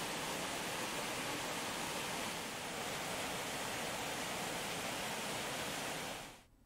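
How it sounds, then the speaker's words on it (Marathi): Heavy rush of water from Tulsi Lake in Mumbai overflowing after torrential rain, a steady, loud broadband roar like a waterfall holding constant before cutting off at the end. "मुसळधार पावसामुळे मुंबईकरांना पाणी पुरवठा करणाऱ्या 7 तलावांपैकी तुळशी तलाव ओसंडून वाहू लागलेला आहे"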